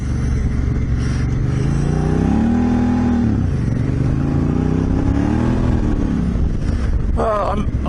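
A Honda Africa Twin motorcycle engine runs and revs up as the bike pulls away, a loud steady drone with rising and falling pitch and a brief clatter near the end, close by.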